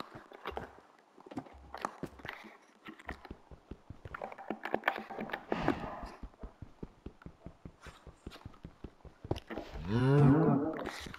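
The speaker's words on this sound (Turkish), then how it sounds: "Oh, inek." A cow moos in the Minecraft Skyblock video game, a single drawn-out low call near the end, following a long run of rapid clicking and tapping block sounds.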